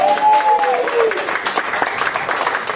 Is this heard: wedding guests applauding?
yes